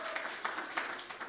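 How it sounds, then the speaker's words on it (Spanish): A church congregation claps for a birthday, a short burst of scattered, moderately loud applause with uneven hand claps. "así que le damos un cariñoso aplauso"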